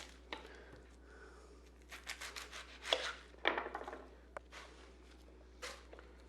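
Knife rough-chopping an onion on a cutting board, a handful of uneven cuts clustered mid-way, fairly close but soft, no talking.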